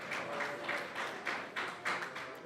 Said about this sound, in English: I hear applause. That's a good sign.